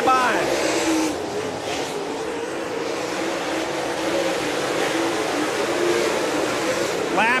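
Late model dirt race cars running laps at Davenport Speedway during a Lucas Oil MLRA event, a steady loud roar of engines from the track with a race announcer talking over it throughout.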